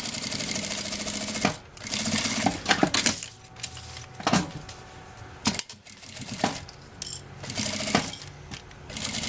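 A sewing machine fitted with a Teflon presser foot stitches in several short bursts of rapid mechanical whirring, separated by brief pauses and small clicks, heard up close with no talking.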